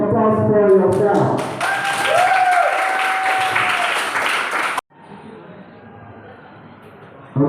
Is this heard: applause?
yes